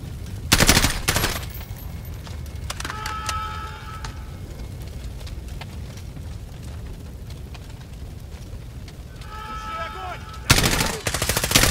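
Gunfire in Call of Duty Modern Warfare, a campaign mission: loud close bursts of rapid shots at the start and end, with quieter battlefield ambience and faint radio-like tones between.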